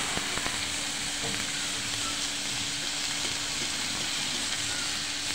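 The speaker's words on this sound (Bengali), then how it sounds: "পেঁয়াজগুলি ভালো করে লাল লাল করে ভেজে নিয়ে পরে বাকি বিচিগুলো এটার সাথে অ্যাড করবো।" Onions browning in hot oil for a jackfruit-seed fry produce a dense, unbroken sizzle that stays loud and even throughout, heard up close with a few faint stirring ticks.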